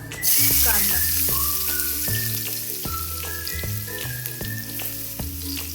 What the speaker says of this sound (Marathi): कांदा आपला आता गोल्डन झालेला आहे, एकदम असा फ्राय करून घ्यायचा